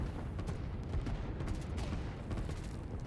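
Artillery fire in the strategy video game Line War, a dense, continuous barrage of booms and rumbling blasts with no pauses, loud and close.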